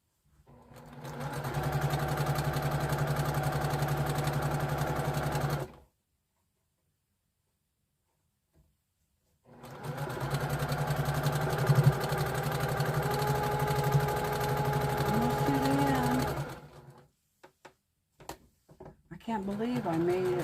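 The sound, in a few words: sewing machine stitching jelly roll quilt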